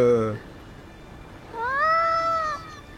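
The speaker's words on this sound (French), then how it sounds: "Il y a un chat." A cat gives a single drawn-out meow near the end, rising and falling over about a second, clear and fairly close, following a brief burst of speech.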